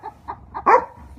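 Bolo the dog gives a few short, close yips and whimpers, then one louder bark, jealous while another dog is being petted.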